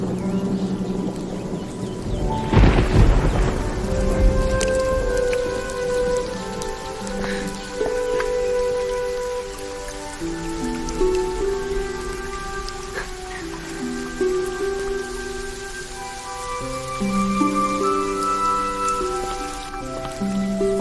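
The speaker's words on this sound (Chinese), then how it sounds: "下雨了。" Steady rain pattering on a hard surface, continuous and fairly close, with a soft tonal musical backdrop underneath.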